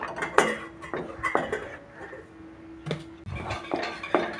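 A spoon stirs thick mango pulp in a pan over medium flame for mamidi tandra, giving intermittent clinks and scrapes against the metal at an irregular pace, fairly quiet and close.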